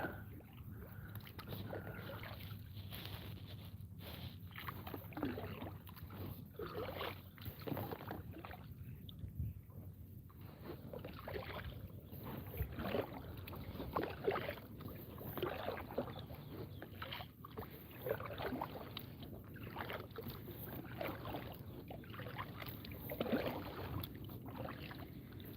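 Canoe paddled along the Pranburi River in Thailand, with a steady series of soft strokes and water swishes repeating close by over low wind rumble, no talking.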